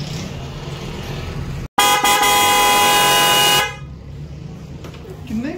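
Vehicle horns tested at a horn shop: a loud, sustained multi-tone blast of about two seconds cuts in after a brief gap, over a murmur of street and shop noise, with voices faintly around.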